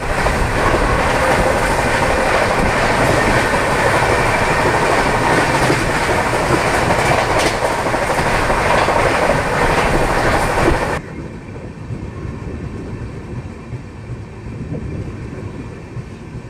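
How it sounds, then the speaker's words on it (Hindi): Steady clickety-clack and low rumble of the Jharkhand Swarna Jayanti Express running after leaving DDU junction, loud and continuous from on board, then dropping to a quieter, muffled rolling hum for the final few seconds. "करीब 11 मिनट रुकने के बाद हमारा डिपार्चर हुआ है DDU जंक्शन से और हम बढ़ चुके हैं अब अगले स्टेशन की ओर।"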